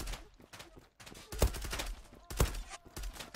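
Gunfire in the video game Zula, a couple of sharp loud shots and scattered smaller bursts over a short stretch, with quieter game noise between.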